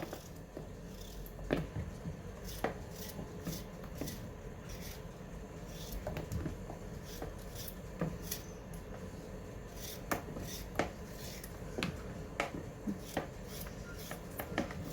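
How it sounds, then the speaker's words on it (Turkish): Potatoes are chopped on a cutting board in a home kitchen, with irregular, fairly close knife knocks over a low background hum. "Şu patateslerimi de doğrayayım."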